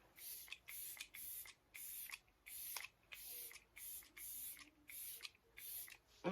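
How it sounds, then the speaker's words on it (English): Ultra fine face mist sprayed in about ten short bursts with brief pauses between them, close and fairly quiet, with a louder knock at the very end. "Oops, I forgot the ultra fine mist."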